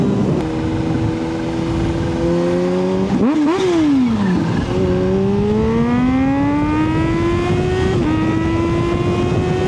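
A Kawasaki Z H2 supercharged motorcycle pulling through the revs around 6,000 RPM, a loud rising engine tone with a high supercharger whine layered on top, dipping briefly at a shift before climbing again, no speech.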